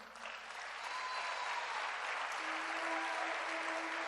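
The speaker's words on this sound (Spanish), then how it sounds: "Dale un aplauso al Señor." A church congregation applauding during a sermon, a soft, distant wash of steady clapping with faint tonal sounds running beneath it.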